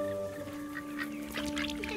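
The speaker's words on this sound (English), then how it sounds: "That is a hungry duck." Duck in the video game That Dragon, Cancer, quacking a few times over a steady tonal game background, moderately close.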